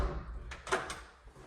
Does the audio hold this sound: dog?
no